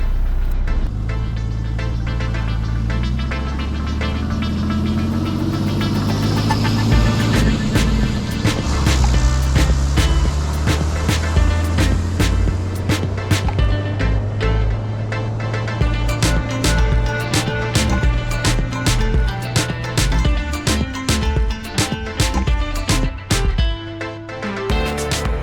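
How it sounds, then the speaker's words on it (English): Truck driving off-road near Bush Bay, a loud continuous engine drone with changing tone under heavy rattling, bumping and clatter over rough ground throughout. "I decided to go to Bush Bay and just try the truck out off-road."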